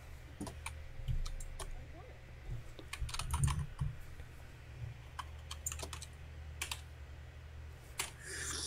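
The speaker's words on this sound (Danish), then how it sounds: "Jeg kan ikke høre det for dit tastatur" Computer keyboard typing during a Fortnite session with friends, quick irregular clicky keystrokes in bursts, close to the microphone, with a low steady hum beneath and faint voices at times.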